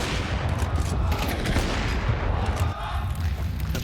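Rapid bursts of gunfire fill a Counter-Strike match, dense and continuous, with overlapping shots and booming echoes throughout.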